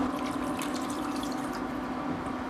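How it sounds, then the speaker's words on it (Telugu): Half a glass of water poured into a bowl of marinated chicken for Hyderabad masala chicken curry, a steady continuous splashing pour lasting a few seconds, close and moderately loud with no talking. "మ్యారినేట్ చేసి ఉంచుకున్న అదే గిన్నెలో 1/2 గ్లాసు వాటర్ వేసుకోవాలి"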